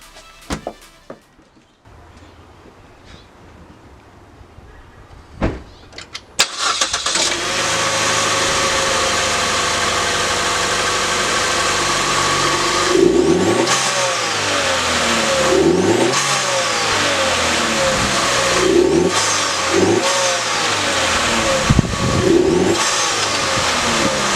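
A 2014 Chevy Cruze RS engine fitted with a cold air intake starts after a few quiet clicks, settles into a loud idle, then revs up repeatedly in several rising and falling bursts.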